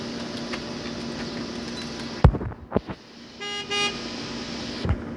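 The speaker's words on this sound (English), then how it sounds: "Somebody honked." A single short car horn toot at a distance, then a brief tonal beep pattern, over steady background hum.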